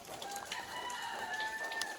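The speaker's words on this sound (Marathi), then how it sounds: "कोंबडे आरावत आहेत" Roosters crow on a quiet morning in rural Konkan, Devgad, Sindhudurg, heard faint and distant as drawn-out calls, with light clucking and birdsong around.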